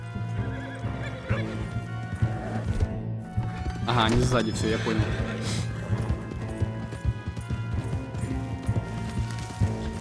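Horse galloping and neighing in the video game Red Dead Redemption 2, with rhythmic hoofbeats running throughout and a loud whinny midway, while someone talks over the action in Russian.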